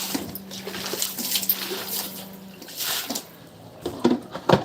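Water pours and splashes in uneven bursts, moderately close, with a low hum running underneath and a few sharp spatters toward the end.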